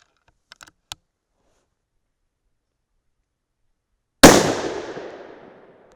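A few faint clicks of loading a 6 PPC rifle are followed after a pause by a single sharp, loud shot whose echo rings out and decays over about a second and a half.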